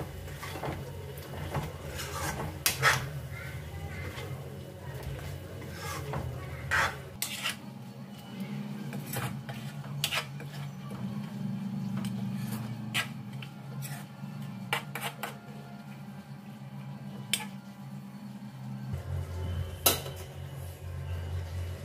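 Spice mix with coriander powder and garam masala being stirred into chicken gravy in a pan, with repeated sharp clinks of a utensil on metal over a low simmering bubble, scattered and close.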